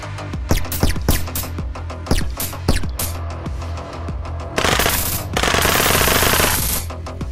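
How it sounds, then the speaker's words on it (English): Gunfire in a multiplayer FPS video game: rapid bursts of sharp, loud shots with hit-marker clicks, then dense sustained automatic fire toward the end. "When shooting another player or target, you also get a hit marker that flashes on the screen and makes a reassuring noise."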